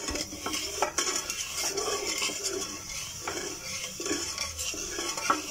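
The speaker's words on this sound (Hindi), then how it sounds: "इसको साथ साथ आप हिलाते जाएं" Sugar syrup for wood apple murabba stirred in a pot, a spoon scraping and clinking steadily and continuously against the metal, close, with a light bubbling hiss underneath.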